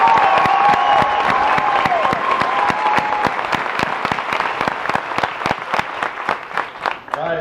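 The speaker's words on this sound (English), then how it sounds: "let's give another round of applause to our awardees" Applause at a military graduation ceremony at Fort Jackson, South Carolina, a crowd clapping loudly and steadily for several seconds with sharp individual claps standing out, gradually thinning toward the end.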